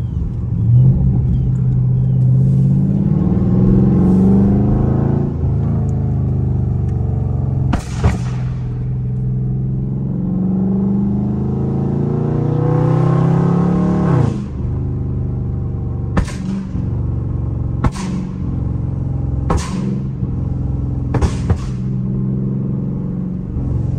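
A Dodge Scat Pack's engine roars loud and close from inside the car, rising through long revving pulls with a deep rumble, then a series of sharp cracks and pops between gear changes.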